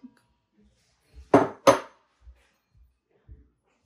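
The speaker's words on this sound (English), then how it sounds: "So we're going to stir in our garlic salt, Italian seasoning, and 3 cans of crushed tomatoes." A spoon stirs garlic salt, Italian seasoning and crushed tomatoes in a pot for crockpot lasagna meat sauce, giving two loud clanking scrapes close by, then a few faint soft knocks spaced apart.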